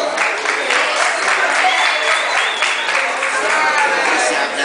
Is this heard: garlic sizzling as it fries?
no